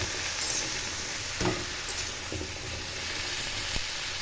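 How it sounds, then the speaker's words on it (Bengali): Mixed vegetables being stirred in a hot pan for a Bengali vegetable curry with lentil dumplings, giving a steady close sizzle with occasional soft scraping knocks of the spoon. "সব সবজিগুলো দিয়ে দিলাম, দিয়ে এবার একটু নেড়ে দিই।"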